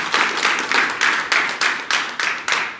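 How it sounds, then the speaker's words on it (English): An audience at a commercial and cultural event in Kerala claps in a steady rhythm, about nine even bursts of dense, close applause filling the room. "Can we have another round of applause for yourself for being here?"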